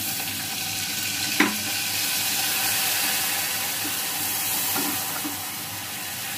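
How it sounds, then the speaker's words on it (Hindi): Water poured into a hot pan of egg and potato curry brings on a steady, close sizzle and frying hiss with a faint clink near the start and no talk. "थोड़ा सा पानी डाल रही हूँ"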